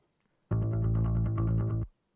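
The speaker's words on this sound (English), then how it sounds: "We have the bass guitar." Isolated bass guitar from a black metal mix plays a single thick, sustained low note for about a second and a half with rapid tremolo-like pulsing, loud and close, framed by near silence.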